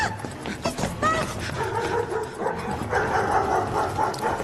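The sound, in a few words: dogs barking in a film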